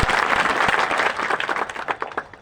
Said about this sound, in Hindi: सैकड़ों में ताली बजाइए।